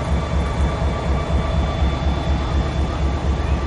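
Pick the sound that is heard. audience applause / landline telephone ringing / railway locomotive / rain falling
railway locomotive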